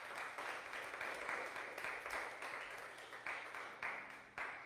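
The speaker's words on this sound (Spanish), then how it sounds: "Dale una ofrenda de palmas al Señor." Church congregation applauding, a steady wash of many hands clapping that stays moderately distant and continuous throughout.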